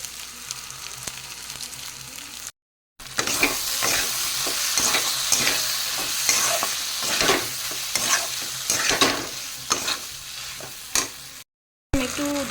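Poppy seed paste is stirred and fried in a pan as part of a home prawn dish, a steady sizzle overlaid with repeated scraping stir strokes, close and fairly loud, with two brief silent gaps.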